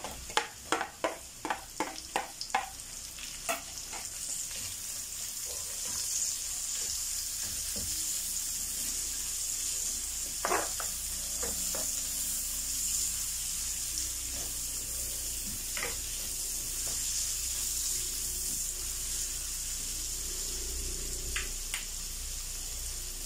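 Garlic and onion sauté in a pan with a steady bright sizzle throughout, starting with a quick series of sharp clinks and stirring scrapes, then occasional utensil knocks over the continuous frying hiss.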